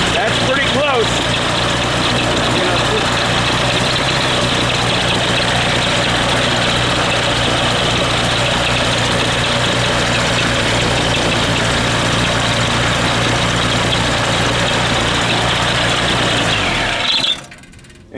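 An aircraft piston engine idles steadily after carburetor synchronization, a loud continuous drone with propeller throb that holds evenly for about seventeen seconds before cutting off abruptly.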